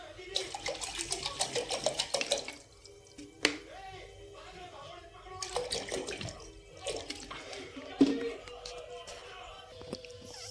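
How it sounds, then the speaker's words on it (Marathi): Water poured from a container into a pan for cooking Maggi noodles, splashing and trickling in short bursts with pauses, close and fairly quiet, with occasional handling clatter. "आता पाणी ॲड करू आपण."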